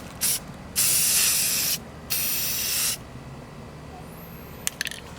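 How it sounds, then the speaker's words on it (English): Hunter green semi-gloss camo spray paint is applied to a Hi-Point C9 9mm handgun in short hissing bursts from an aerosol can, three spray blasts in a row, followed by a few light clicks and handling noises. "let's hit it up with a little bit of this hunter green semi-gloss."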